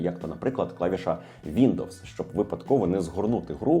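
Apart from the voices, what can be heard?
None of the usual background noises is heard.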